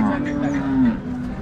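A cow that has calved twice gives a long, low moo at close range at a cattle market, a steady droning call lasting about a second over faint background noise.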